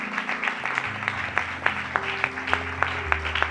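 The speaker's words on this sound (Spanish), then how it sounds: "Dele palmas al Señor con todo su corazón." Congregation claps for the Lord in rhythmic, evenly spaced beats over sustained organ or keyboard music in a church service.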